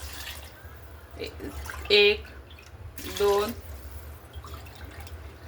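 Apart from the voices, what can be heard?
pouring water into rice for veg soya peas pulao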